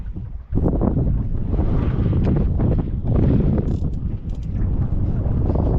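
Wind buffets the microphone over a boat on the Tamar estuary during sea fishing, a steady loud rush with water and hull noise close by throughout.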